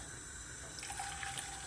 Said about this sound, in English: now I'm going to add my hot water